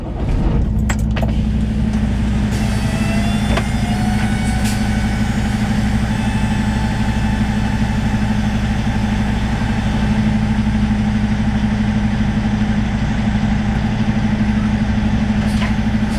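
A semi truck hauling steel plates idles with a loud, steady low diesel rumble throughout while easing backward, close and continuous, with a few faint clicks and rattles on top.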